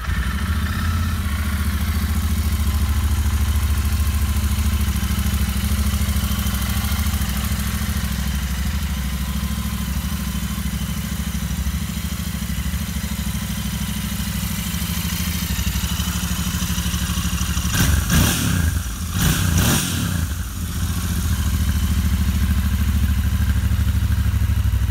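Royal Enfield Interceptor motorcycle running on stock exhausts, a steady rumbling idle heard close, with a couple of brief throttle blips near the end.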